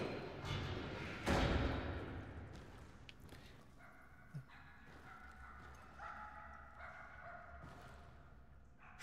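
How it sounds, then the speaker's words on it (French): Small dog barking and yipping in the video game Somerville, several short sharp barks and a whimper amid thuds and a rumbling game soundscape, fairly distant and mixed under other effects. "J'entends un petit chien."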